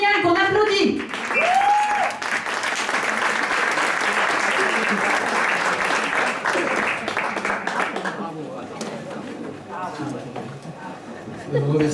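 Audience applause after Julien's piano-accompanied cover of a song at a Valentine's evening show, a dense sustained burst of clapping lasting most of the clip before thinning out, with a voice briefly heard at the start.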